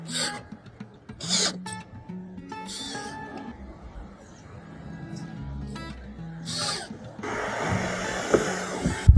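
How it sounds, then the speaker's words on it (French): Abrasive sanding against the inside of a gutter on a flat-roof shed, with intermittent close rubbing and rasping strokes, then a louder sustained scrubbing burst near the end. "il suffit de poncer un petit peu l'intérieur de la gouttière"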